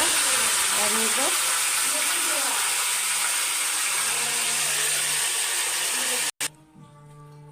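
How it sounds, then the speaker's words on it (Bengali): A fish head frying in hot oil in a wok, giving a steady loud sizzle throughout with faint voices underneath, cut off abruptly near the end to quieter background. "এবার যাবো গিয়া মাছের মাথাটা ভাজতাম।"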